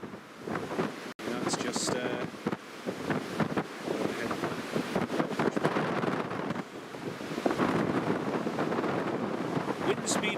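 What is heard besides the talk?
strong gusting wind during Storm Otto at airport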